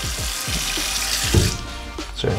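Tap water running steadily into a sink, a continuous splashing rush with small gurgles and shifts as hands move under the stream.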